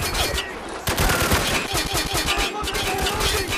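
Rifle fire in the video game Spec Ops: The Line crackles in dense, continuous volleys, loud and close, with gunshots layered over steady battlefield noise.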